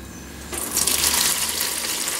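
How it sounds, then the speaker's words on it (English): Melted liquid from harvested bee larvae and pupae is poured through a strainer, a steady rushing pour that starts abruptly and runs on alone at close range. "pour it through a strainer"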